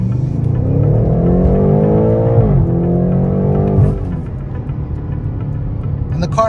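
A 2020 BMW M8 Competition Coupe engine over 600 horsepower pulls hard up through the gears, a loud close growl rising in pitch, dipping at each shift, then easing to a steady cruising hum.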